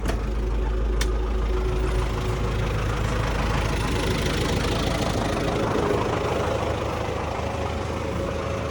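An MTZ-82 tractor engine idles steadily with a low, continuous diesel rumble and a faint knock, close and moderately loud throughout, pulling a six-unit seeder in a field.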